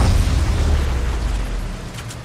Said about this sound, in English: I'm gonna knock that tree down.